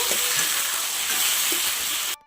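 Tomatoes and tamarind simmering in hot oil give a steady, close sizzle with faint stirring scrapes, which cuts off abruptly near the end.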